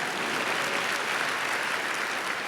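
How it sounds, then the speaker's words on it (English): Audience applause fills an auditorium during a Stephen King talk, a dense, steady wash of many hands clapping at close range for the whole stretch, loud and even with no voices over it. "go ahead, clap"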